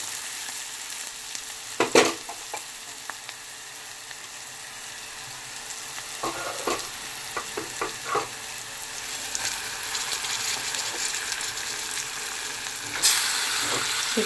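Chicken hitting a hot pan with turmeric and curry leaves in a home kitchen, a steady close sizzle with occasional stirring clatters and scrapes.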